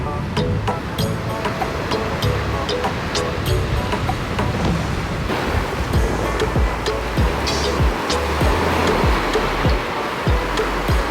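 Ocean waves wash onto a beach in Puerto Viejo, Costa Rica, a steady broadband rush of surf with intermittent crashing bursts, heard alone without talk.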